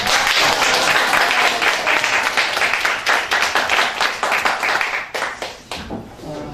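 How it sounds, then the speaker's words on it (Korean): An audience at a political talk concert applauding, many hands clapping loudly and steadily before thinning into scattered claps that fade toward the end. "박수 좀 부탁드립니다"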